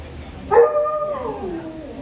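A family's pet dog, seemingly a small Shih Tzu or Pomeranian type, gives a single drawn-out howl that slides downward in pitch and fades over about a second and a half, heard close with some low background murmur.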